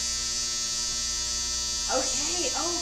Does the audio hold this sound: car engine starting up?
no